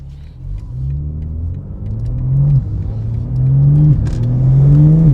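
A BMW M3 Competition G80 accelerates hard, its engine droning and climbing in pitch through successive gear changes with brief dips between them, loud and close from inside the car.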